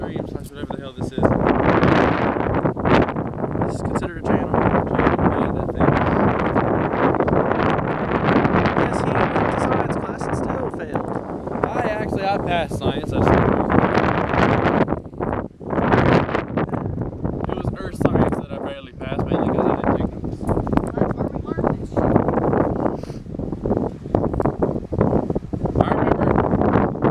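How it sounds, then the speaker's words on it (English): Strong wind buffets loudly and continuously, roaring in gusts with heavy rumbling, while a person talks underneath. "It's really windy."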